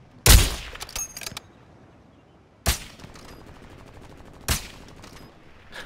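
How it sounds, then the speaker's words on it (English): Sniper rifle shots in Call of Duty Warzone, three sharp, loud reports spaced a couple of seconds apart, the first followed by a short rattling echo, with quiet ambience between them. "They're having a sniper battle."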